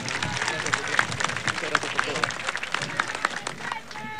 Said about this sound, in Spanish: Un aplauso para nuestro presidente.